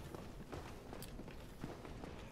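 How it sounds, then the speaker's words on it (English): Scattered footsteps echo through Dark Souls Remastered, several faint, irregular steps with no clear direction, sitting under a constant murky game ambience. "I hear all sorts of footsteps, and I don't know where they're coming from."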